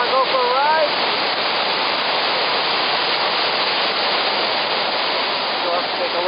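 Krka Falls near Sibenik, Croatia, sends up a loud, steady roar of rushing water that fills the whole stretch without a break, with faint tonal sounds near the start and end.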